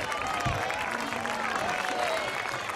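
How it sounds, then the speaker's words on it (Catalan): Schoolchildren and adults at a Catalan school event for La Marató de TV3 applaud a fifth-grade girl, a steady moderate wash of clapping with murmuring voices underneath. "Un aplaudiment a aquesta nena de 5è."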